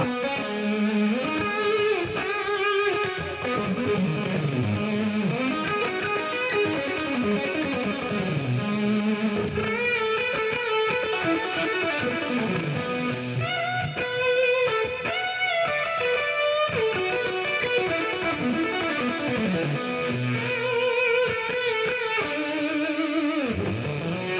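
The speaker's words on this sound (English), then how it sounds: "he used a lot of like fuzz, which I like to use, like the fuzz face, to get that kind of a sound like he got" Electric guitar played on the neck pickup through a Fuzz Face fuzz pedal, giving a thick, saturated psychedelic tone; a continuous phrase of sliding, sustained notes and bends plays alone at steady loudness.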